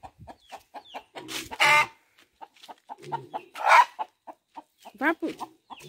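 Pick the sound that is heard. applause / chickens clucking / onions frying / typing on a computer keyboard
chickens clucking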